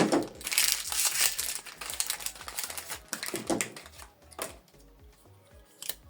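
Plastic wrap crinkles and crackles in quick bursts as the protective tape is peeled off an HP Deskjet 2922 ink cartridge, close and fairly loud, fading to lighter rustles toward the end.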